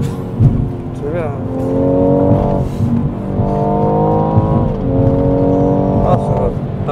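A BMW 240i on winding country roads, its engine note climbing and falling through gear changes, loud and steady from inside the cabin.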